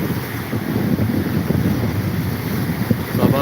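Gusty wind by the sea buffets the microphone in a constant rumbling roar, with faint wave wash underneath, loud and close throughout.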